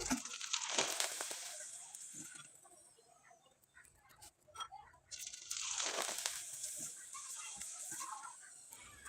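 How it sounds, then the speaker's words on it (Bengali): Pata pitha frying in hot oil, a broadband crackling sizzle in two loud stretches with a quieter dip between them, no voices over it. "এখন কয়েকটা পিঠা আমি তেলে ভেজে দেখিয়ে দিচ্ছি"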